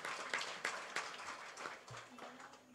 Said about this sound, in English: I had to tell her to clap again for them